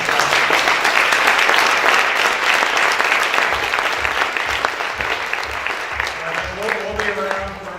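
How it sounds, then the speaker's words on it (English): A conference audience gives loud, sustained applause for a panel of speakers; the clapping stays dense throughout and thins slightly near the end as a voice begins talking over it. "Big round of applause for the panel."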